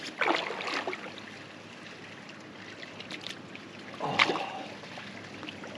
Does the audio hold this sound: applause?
no